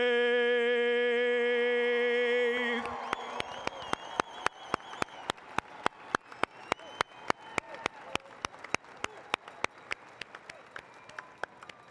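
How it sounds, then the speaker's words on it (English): Audience applause right after a national anthem sung at an outdoor Declaration of Independence reading ceremony: a long sustained sung note gives way to a steady run of sharp, distinct claps, fairly close, lasting to the end. "Another round of applause."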